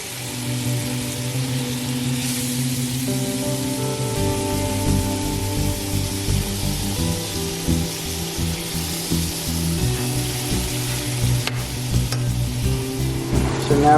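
Salmon fillet sizzling steadily in a hot pan just after being flipped, a loud, continuous crackling fry with light stirring scrapes and tonal background sound throughout.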